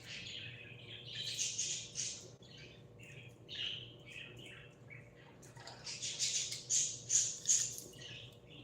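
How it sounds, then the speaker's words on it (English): Pet budgies squawk and chirp in bursts throughout, somewhat distant and moderately loud, with a low steady hum beneath in a home kitchen. "you can hear the budgies in the background making a lot of noise"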